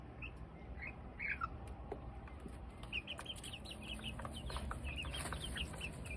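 Hens clucking and squawking in short, scattered bursts, fairly close, over steady outdoor background noise in hot Arizona summer weather.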